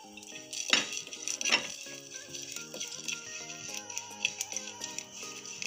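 Cumin and black pepper dry-roast together in a pan while a metal spoon clinks and scrapes against it in irregular taps, with faint tonal background sound.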